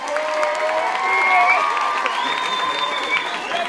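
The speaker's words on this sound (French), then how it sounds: "on vous applaudira encore une fois" A show audience gives the performers steady applause mixed with cheering and high excited voices. The crowd noise is close and fills the space without a break.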